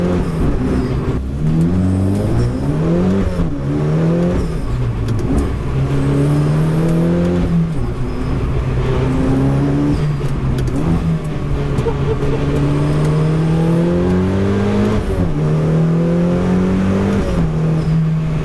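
A Dallara Stradale supercar driven on a winding road, its engine loud and close, repeatedly revving up through the gears and dropping back, with rising and falling tones throughout.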